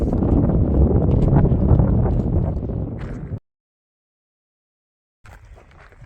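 Strong wind buffets the microphone with a low roar, then cuts to silence before returning more faintly.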